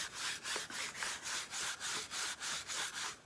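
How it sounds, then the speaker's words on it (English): A rag wipes wax-stain coating off a wooden shutter in about ten steady back-and-forth strokes, each a soft, close rubbing swish with brief pauses between. "Wipe it off."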